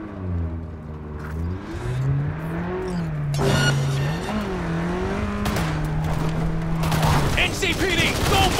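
Car speeding through a police chase in Cyberpunk 2077, a steady engine drone shifting pitch as it revs and accelerates, with bursts of gunfire and crashes layered over it and voices shouting in the mix.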